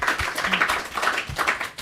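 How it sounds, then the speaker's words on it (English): Brief applause from a conference audience at a port-strategy session in Greece, a steady patter of clapping hands with no talk over it. "And by the way, he needs an applause."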